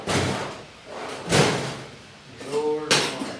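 Workshop drawers and cabinet doors slide open and shut, giving several loud thudding slams and rolling scrapes spread across a few seconds, with brief squeaky runner sounds between them.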